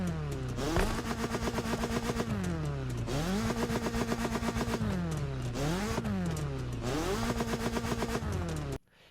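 A BMW M3 Sport Evolution's engine in a racing video game revs loudly and continuously, climbing and falling through repeated gear-change sweeps with a harsh, buzzy tone, cutting off abruptly near the end.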